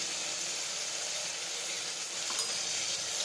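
Crushed garlic chutney, cumin and turmeric sizzling in hot oil for a guvar curry, a dense steady hiss close up with no breaks or voices.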